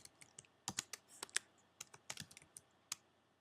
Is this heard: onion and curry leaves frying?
no